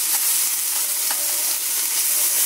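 Food seasoned with salt, pepper and garlic powder browns in a hot pan, producing a loud, dense, unbroken sizzle close up with faint crackles, no voices.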